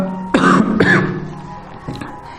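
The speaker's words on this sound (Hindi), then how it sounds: "खांसी ने मार ली है" Two loud, close coughs in quick succession, followed by a fainter third cough.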